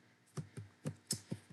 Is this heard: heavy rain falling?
no